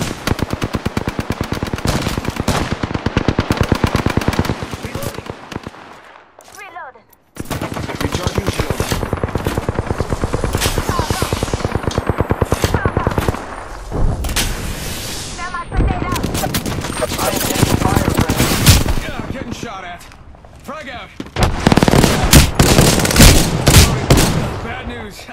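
Apex Legends video game gunfire: long, loud bursts of rapid automatic shots with short gaps and a few quieter stretches, over game voice callouts and player talk.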